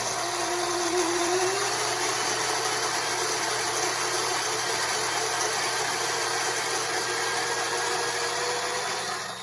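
A SHARDOR 64mm flat burr grinder grinds espresso coffee, giving a steady, close-up mechanical whir and crunching buzz that holds evenly for about nine seconds without talking.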